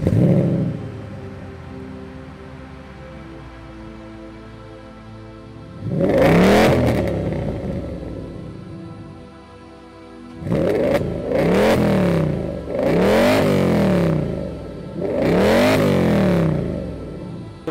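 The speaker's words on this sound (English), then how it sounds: "I can start a car for you." A V10-swapped C5 Corvette with a custom exhaust fires up and idles with a deep burble, then gives one sharp rev and a series of quick, loud, close revs that snap back down.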